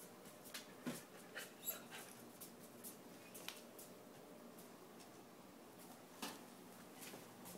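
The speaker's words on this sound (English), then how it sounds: "What you got there, little dog?" Small dog panting in quick, soft breathy bursts, close by and fairly quiet, with a few louder huffs near the start and again later.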